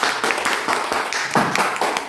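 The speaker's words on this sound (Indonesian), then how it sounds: "tepuk tangan dulu untuk kelompok 3" Classroom group clapping in a training session, a short round of hands with distinct uneven claps rather than a dense roar, fairly close.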